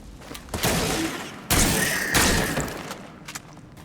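Gunshots from the Scars Above video game strike unstable icicles, followed by heavy crashing thuds and a sustained noisy burst as ice drops, with a few smaller knocks trailing off.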